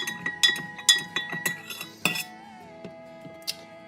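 Spoon clinking against a glass while stirring a drink of apple cider vinegar and juice, a quick series of sharp clinks followed by a faint ringing tone and one last tap.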